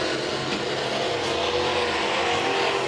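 Factory stock cars race at Tulsa Speedway, a continuous loud engine roar with revving surges as the field runs down the stretch, steady and close throughout.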